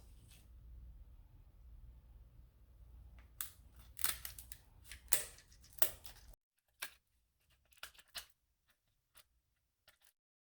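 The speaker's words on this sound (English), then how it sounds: "so we are going to cut the middle and then we can pull the meat out" Scissors cut down the middle of a lobster tail shell, giving a cluster of sharp crunching snips followed by a few scattered clicks, close but quiet.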